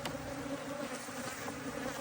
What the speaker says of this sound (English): because it's had bees living in it, it attracts bees.